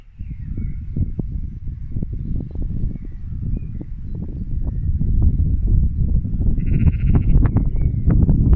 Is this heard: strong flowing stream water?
no